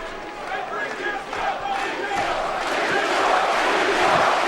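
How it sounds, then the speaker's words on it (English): The crowd at a boxing match between Klitschko and Thompson gives a steady roar that swells and holds loud. It sounds broad and distant, with a commentator's voice faint under the noise. "And the crowd comes alive for that."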